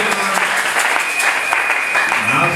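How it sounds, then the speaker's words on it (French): A church congregation claps together during a French sermon, a dense, steady wash of hands for nearly three seconds, with some voices mixed in beneath it. "Applaudissez pour le Seigneur."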